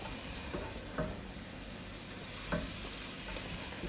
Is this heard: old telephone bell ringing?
no